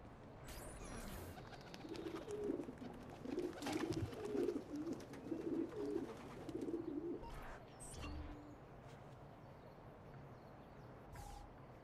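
Pigeons at a pigeon coop in Assassin's Creed II make soft, repeated cooing phrases in a steady rhythmic run over a low background murmur, followed by a few scattered thuds.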